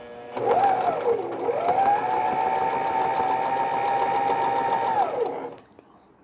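A sewing machine runs a straight stitch through stretchy fabric while a baby's knee cap sock is being made. The motor whirs close by, briefly speeds up and slows, then holds a steady even hum for several seconds before stopping.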